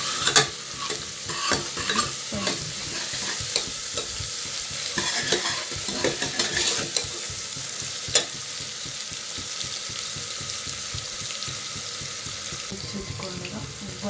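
Curry leaves frying in a pan for a tomato dish, sputtering sizzle with busy stirring clatter and crackles, close by and continuous without speech.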